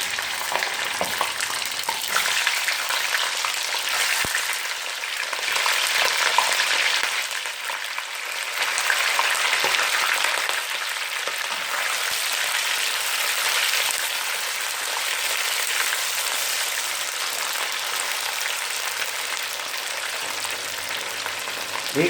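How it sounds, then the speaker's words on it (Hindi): About a kilo of chicken frying in hot oil in a karahi pan for Peshawari charsi karahi, a steady loud sizzle with crackling spatter running the whole time, swelling a little now and then, with no talking. "वो अब हम इसके अंदर फ्राई करेंगे।"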